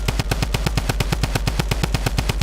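Rapid, evenly spaced gunshots in Fortnite during a duo scrim, about twenty sharp cracks fired in quick succession over a couple of seconds, loud and close with no talk.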